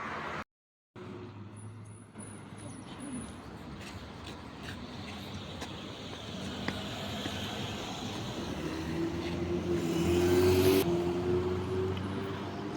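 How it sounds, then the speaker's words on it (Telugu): Steady traffic rumble of cars rolling past on a street in Muscat, Oman, with a louder vehicle swelling nearby toward the end; no talking. "కార్లు వస్తున్నాయి"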